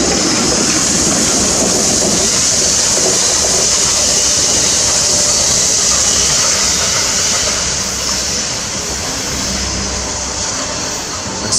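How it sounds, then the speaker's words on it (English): A steam engine locomotive runs with a steady, loud broadband hiss and rumble, continuous throughout with no voices over it. "A steam engine train locomotive"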